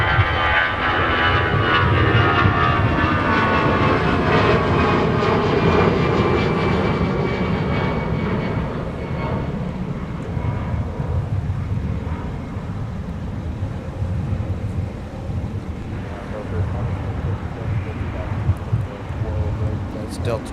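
A Delta airliner departing from snowy MSP airport bound for Raleigh-Durham, a sustained loud jet engine roar that slowly fades over twenty seconds, with people talking over it.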